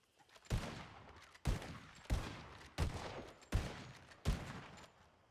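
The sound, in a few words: gunfire in a roleplay video game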